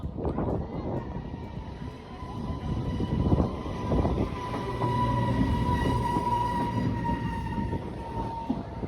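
A train rumbling along the tracks with a steady roar and high metallic whine, continuous and fairly close throughout.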